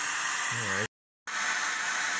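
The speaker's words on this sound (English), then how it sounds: "It's a vacuum going." Shop vacuum hooked to an orbital sander working fiberglass aboard a sailboat during a refit, a loud steady broadband roar that cuts out briefly and resumes, with a short spoken word over it.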